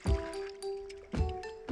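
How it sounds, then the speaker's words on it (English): Clean water splashes and trickles as a tin cup and dishes are rinsed by hand, in short bursts of pouring with watery drips between, fairly quiet and close, with a steady tonal hum in the background. "This boy's job is to rinse the dishes with clean water."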